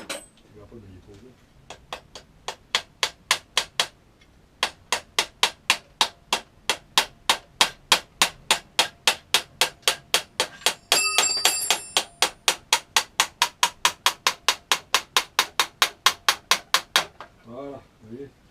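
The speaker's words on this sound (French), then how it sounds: "Bon, on va un petit maillet ou un petit marteau." A small mallet taps an engine's ignition flange in a long, even run of sharp metallic knocks, close and loud, with a brief pause near the start and a few voice sounds at the end.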